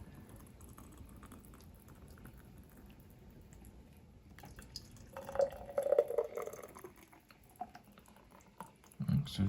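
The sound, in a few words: pouring blended juice into two glasses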